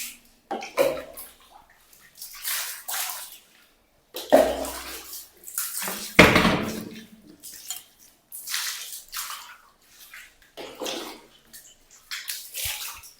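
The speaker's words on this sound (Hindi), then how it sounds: "इससे मैं थोड़ा सा अपने वॉशरूम को साफ कर लेती हूँ." Water pours and splashes in bursts while a washroom is cleaned. Intermittent gushes and sloshes come up close against quiet pauses.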